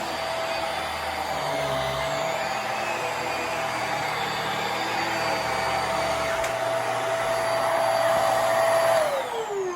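A Hoover MaxLife Pro Pet Swivel upright vacuum cleaner runs continuously with a steady, fairly loud motor whine and airflow hiss, and its pitch drops slightly just before the end.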